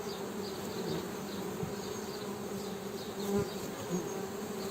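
Honeybees buzzing at a hive during spring honey flow, a continuous droning swarm hum close by with occasional louder passes and light bumps.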